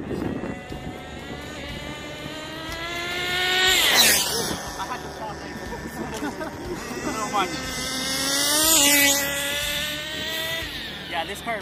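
A Tornado S30 car with a 2-speed transmission drives past twice, its high-pitched engine whine rising to a loud whoosh and dropping in pitch as it passes close by, then fading.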